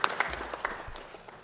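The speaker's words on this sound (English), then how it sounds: "let's give Coach Manuel Douglas a round of applause" Sparse applause for a coach at a presentation, a few distinct claps standing out early and then thinning to scattered hand claps that fade within a second or so.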